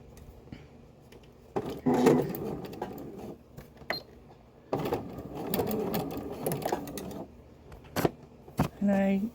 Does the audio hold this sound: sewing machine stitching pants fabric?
yes